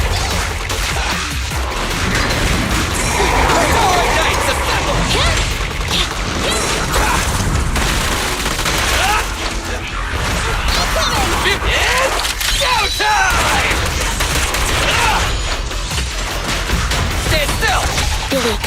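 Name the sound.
gunfire and explosions in the video game Zenless Zone Zero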